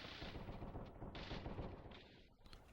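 Rapid mech weapon gunfire from the Xbox game Steel Battalion, repeated bursts of cannon-like fire with short gaps between volleys, fairly faint and muffled overall.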